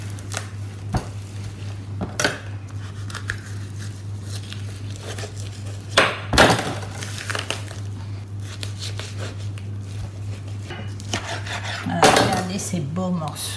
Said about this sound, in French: Alors maintenant, on va couper la cuisse.